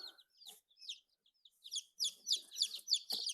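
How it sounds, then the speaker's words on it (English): Young chicks peeping in a brooder, a quick run of high chirps that grows busier toward the end, close and fairly quiet. "And we have 26 chicks that we're putting in here."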